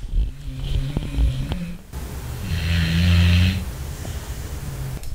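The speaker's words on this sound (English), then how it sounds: "Do you hear this girl snoring?" A girl snores nearby in slow, rumbling breaths, one long drawn snore swelling in the middle, with low background murmur around it.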